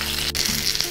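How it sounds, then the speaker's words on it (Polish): Trout fries in butter, sizzling and spitting steadily in a hot pan, a close, bright crackling hiss with no voices. "No i teraz smażę każdą ze stron po około 4 do 5 minut."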